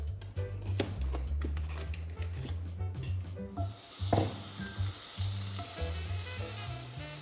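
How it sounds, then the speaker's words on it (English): Butter sizzling and frying in a hot cast iron skillet, a steady loud hiss with crackle, interrupted by a few sharp clinks and a brief burst partway through. "we're gonna throw in some butter"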